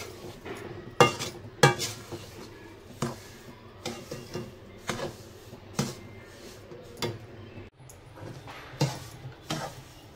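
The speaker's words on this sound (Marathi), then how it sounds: "2-4 मिनिटं आहे ना जरा थोडंसं आपण याला फिरवत राहायचं, नाही तर मग तो खाली लागेल" Semolina being stirred and toasted in a hot iron wok for Diwali laddoos, with repeated metallic scrapes and clinks of a spoon against the pan, close and fairly quiet, in uneven strokes.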